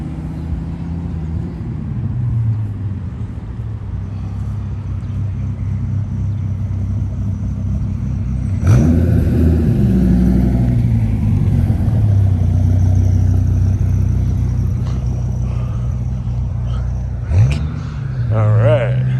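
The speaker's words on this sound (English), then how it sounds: "somebody's sneaking away with their Dodge Viper right there" Dodge Viper pulling out of a car show, its engine rumbling at idle, then a louder, deeper drone as it moves off nearby, with crowd noise around it.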